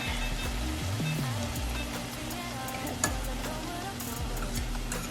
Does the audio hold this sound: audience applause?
no